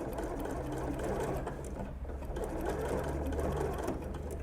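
Sewing machine stitching an invisible zipper onto a garment, a close continuous whirring hum with rapid needle chatter, steady throughout without a break.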